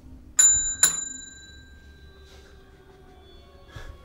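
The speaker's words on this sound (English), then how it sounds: "Come to the bell." A small bell rings sharply twice in quick succession during a paranormal investigation in a Kansas house, each strike ringing on briefly before fading into a quiet room with faint later knocks.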